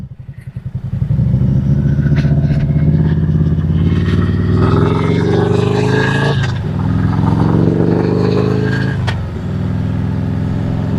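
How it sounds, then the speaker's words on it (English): A group of nine motorcycles, including Harley-Davidsons, Hondas and Can-Am Spyders, rides together in Georgia, giving a loud, steady engine drone with rising revs and brief gear-change dips throughout. "we got 9 bikes and 9 riders and 3 Harleys, 3 Hondas"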